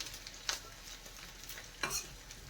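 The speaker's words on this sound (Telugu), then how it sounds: "గోంగూరని కూడా యాడ్ చేయాలి గోంగూరని బాగా ఫ్రై చేయాలండి" Red gongura (sorrel) leaves frying in oil in a pan, a quiet low sizzle broken by two brief scraping stirs.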